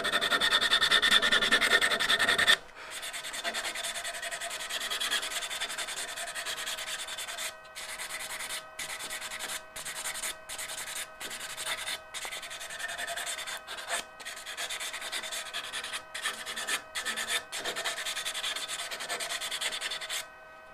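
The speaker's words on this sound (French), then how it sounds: "je vais poncer là" Sanding an eccentric wood turning piece, a dense continuous rasping rub broken by brief pauses and short strokes, close and fairly loud throughout.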